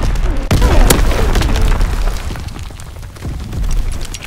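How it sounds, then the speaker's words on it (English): Heavy artillery explosions in a Call of Duty WWII team deathmatch battle, with a sharp loud blast followed by rumbling booms and continuous low roar of combat throughout, some shouting voices mixed in. "Incoming enemy artillery!"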